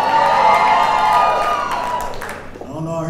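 A comedy show crowd at City Winery cheers and shouts in answer to the comedian, a loud sustained roar of many voices that fades near the end as one voice starts talking.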